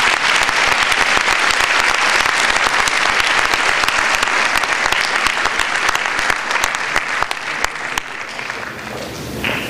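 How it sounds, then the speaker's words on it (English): Loud, sustained applause from an audience at a school board meeting, dense clapping with some sharper individual claps standing out, tapering slightly in the final seconds. "All right, let's give them a round of applause."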